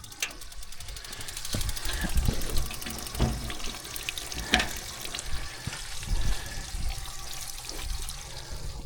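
Water mixed with antifreeze flows out of a pump line in an off-grid setup, a close, irregular splashing and gurgling stream with uneven bursts throughout and no talking.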